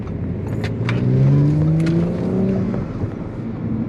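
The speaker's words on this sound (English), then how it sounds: "A little squeal." Audi S4 tires giving a short rising squeal during a turn in city traffic, the squeal swelling and fading over engine and road noise.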